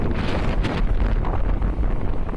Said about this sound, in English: Wind is crazy out here.